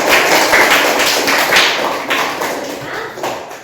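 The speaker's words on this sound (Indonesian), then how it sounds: "Kita berikan tepuk tangan dulu buat kelompok." Classroom of students applauding a student group, lively close clapping with scattered taps and thuds that swells early and then tapers slightly near the end.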